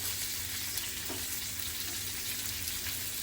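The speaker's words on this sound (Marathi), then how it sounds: "तर अशा प्रकारे आपले मासे तळून झालेले आहेत खाडीचे काळे मासे" Black creek fish fry in a pan, giving a constant, even sizzle that crackles softly up close, with no talking.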